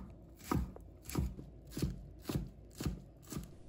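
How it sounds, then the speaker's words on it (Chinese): A knife chopping green and red chili peppers into small pieces on a board: six evenly spaced, close, crisp thuds in a steady rhythm, with no talk. "再切成小粒"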